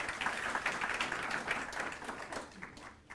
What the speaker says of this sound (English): One more time, a round of applause for our panel.